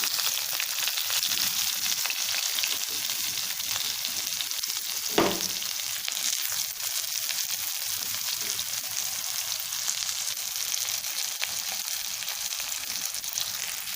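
Onions and green chillies frying in oil for leftover-rice poha, a continuous bright hiss of sizzling with one sharp clatter partway through, close and even in level, no speech.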